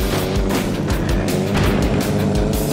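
A jeep's engine revs and accelerates steadily in the zombie-driving game Earn to Die 2, a loud continuous motor drone with shifting pitch and no talk.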